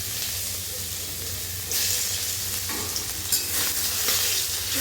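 Whole cardamom pods and cinnamon sizzling in hot oil in a pan while being stirred, a steady close hiss with scraping bursts from the spoon partway through.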